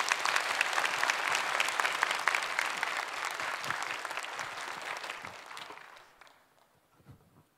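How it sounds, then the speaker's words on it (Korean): A church congregation breaks into loud, sustained applause to welcome the pastor to the pulpit at a Lenten special early-morning service, the clapping dense and steady for about six seconds before fading quickly to near silence. "크게 박수로 청하겠습니다."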